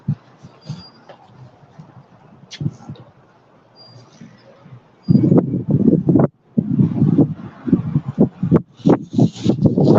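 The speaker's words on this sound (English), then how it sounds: "it's real windy out here today" Gusty wind outdoors at an Oklahoma camp buffets the microphone in loud, rumbling bursts that come and go, with quieter stretches of light rustling between them.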